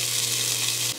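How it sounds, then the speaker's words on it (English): Brown rice, about a third of a cup, frying in a pan, giving a steady, loud, hissing sizzle with a low constant hum beneath that runs unbroken for a moment before cutting off. "I'm going to put it on a pan. Into the pan it goes."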